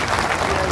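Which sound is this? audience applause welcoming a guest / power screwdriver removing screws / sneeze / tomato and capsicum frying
audience applause welcoming a guest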